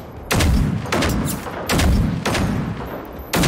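Gunfire in the video game Generation Zero while shooting at enemies, about five loud bursts of rapid shots separated by short gaps.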